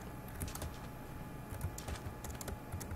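Rapid typing on a computer keyboard with bursts of clicky keystrokes, close and fairly quiet, set against a steady background hum during a Minecraft Murder Mystery game on Hypixel.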